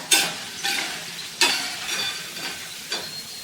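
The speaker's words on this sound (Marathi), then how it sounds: "आवाजच किती छान येत आहे भज्यांचा" Bhaji fritters frying in hot oil at home for a Gudi Padwa festival thali, a steady close sizzle broken by several sharp bursts of crackling as batter is stirred or dropped in, no voices.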